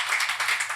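An audience claps at a live comedy show, a dense steady patter of many hands applauding at close range with no voices over it.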